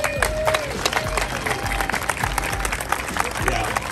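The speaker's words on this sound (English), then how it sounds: "So I'd love to have a big applause for Winnie." At a Meyers Manx buggy gathering, a crowd claps and applauds in a dense patter of sharp hand claps, loud and sustained, with a few voices calling out among it.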